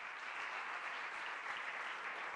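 Steady applause from a church congregation, continuous clapping at an even level throughout with no voices standing out.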